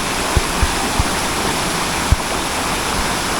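The Kapas Biru waterfall in Lumajang roars as a loud, steady wash of falling water, broad and unbroken, with a few faint low thumps and no voices.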